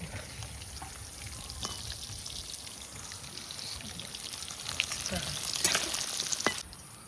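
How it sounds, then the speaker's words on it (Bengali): Pieces of fish, hilsa for a light curry, frying in a pan of oil, giving a steady crackling sizzle with occasional stirring scrapes that grows louder near the end before easing off. "মাছ ভাজা হয়ে গেছে, তুলে নিচ্ছি।"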